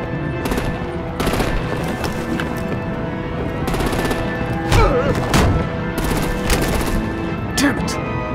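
Rapid bursts of automatic gunfire and heavy impacts during a firefight in Batman The Enemy Within, loud and close, in repeated volleys with brief thuds between them.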